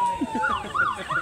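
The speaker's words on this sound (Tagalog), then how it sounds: "Mukhang 10 ambulansya na yung dumadating." Ambulance siren wailing in rapid repeating sweeps, loud and close, at an emergency-response drill during a line workers' rodeo, with a steady tone underneath.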